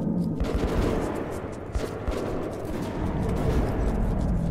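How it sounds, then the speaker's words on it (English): Dense rattling gunfire from the video game Metro 2033 Redux, a continuous fusillade of rapid overlapping shots with a few sharper reports, moderately loud and steady throughout. "go to the gunshots. That's where you want to go."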